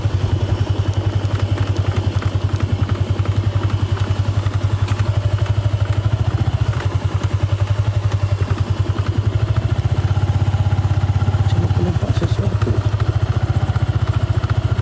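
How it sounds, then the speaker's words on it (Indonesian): A motorcycle engine idles close by with a steady, loud, thumping rumble and some clatter, running continuously at night near an old airport in Tawau, Sabah. "Motor mu okey ke berbunyi-bunyi?"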